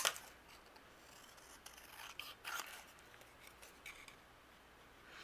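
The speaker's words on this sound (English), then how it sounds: "Now I'm going to use my scissors and we'll just fussy cut these out really quickly." Scissors fussy cutting stamped paper, faint close snips and soft paper rustling in an irregular rhythm.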